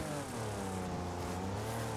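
A tractor engine close behind a car in a demolition derby race in the video game Wreckfest, a loud, steady droning roar with rising harmonic tones, heard alone and unbroken throughout.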